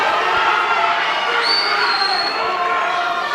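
A boxing crowd at an amateur bout cheering and roaring in a steady wash of noise, loud and continuous, with a commentator's voice faintly in the mix.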